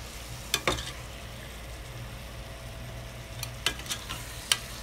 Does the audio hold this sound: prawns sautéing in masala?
yes